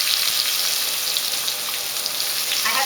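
Chopped onion hits a hot pan and sizzles with a bright, constant hiss and spattering crackles, steady and fairly loud, with no talking.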